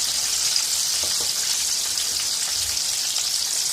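KFC-style breaded chicken fries on its second side in hot oil, a dense, loud, hiss-like sizzle resembling heavy rain that runs evenly throughout without pause or voices.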